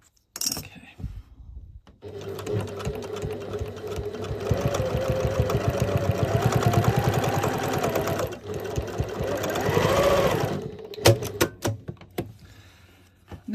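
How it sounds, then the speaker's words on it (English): A sewing machine stitches a zippered frogmouth pouch in close, loud continuous runs, briefly pausing near two and eight seconds, then giving way to a few scattered clicks and knocks at the end. "I didn't put my needle down after I turned the machine on."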